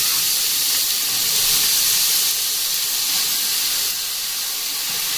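Grated carrots hit hot ghee in a cooking pan and sizzle with a loud, dense hiss that stays constant for a few seconds, with no one talking.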